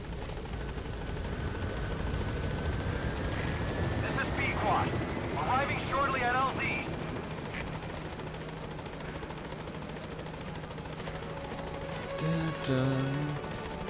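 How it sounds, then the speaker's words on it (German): A helicopter arrives in the video game Metal Gear Solid V, its steady rotor drone filling the scene at a constant level while a voice speaks over it. "Na komm, Hubschrauber."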